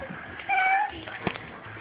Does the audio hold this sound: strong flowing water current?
no